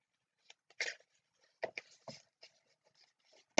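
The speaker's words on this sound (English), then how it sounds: "which I'm ripping into the box right now" Sharp tearing and crinkling of a small cardboard product box for an eyebrow highlighter from an Ipsy Glam Bag Plus being ripped open, a few quick rips and scrapes close up in a quiet room, no talk.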